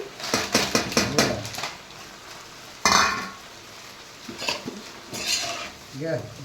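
Metal utensils scrape and clink against a pan in quick bursts as cumin and grated coconut are roasted for tomato chutney, with a faint sizzle underneath.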